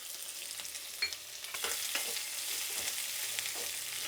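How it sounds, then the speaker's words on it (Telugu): Onion, green chilli and curry leaves fry in a pan, a close steady sizzle with crackling pops and occasional stirring scrapes, rising in intensity after the first second. "ఇప్పుడు ఇవన్నీ బాగా వేయించుకుందాం"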